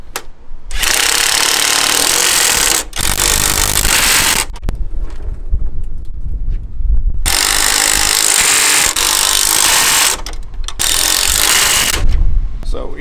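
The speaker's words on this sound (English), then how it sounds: "Tighten these outside torques up all the way around before we do the inner bolts." A power impact tool hammers in long loud bursts with short gaps, tightening bolts on a MacDon FD2 header, the rattling runs repeating close by.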